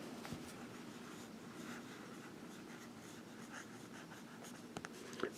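A broad-nib Edison Pearlette fountain pen writes on paper, giving a faint, close, continuous scratchy glide with a few small taps near the end, and no voices.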